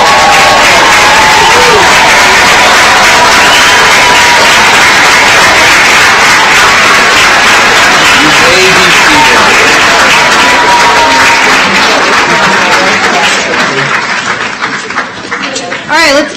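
Crowd applause and cheering for graduates at a fall commencement ceremony, sustained dense clapping from a large audience that continues loudly before tapering slightly near the end.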